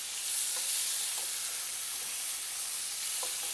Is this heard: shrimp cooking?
yes